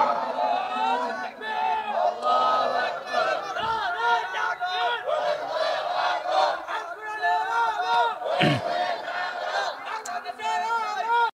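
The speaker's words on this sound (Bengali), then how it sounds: "কারা কারা রাজি তো হাত উঁচু করে স্লোগান দিয়ে দেখান।" A large crowd at an outdoor political rally chants and shouts slogans in unison, a dense, loud roar of many voices that carries on steadily throughout.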